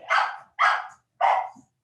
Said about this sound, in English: see, the dog's excited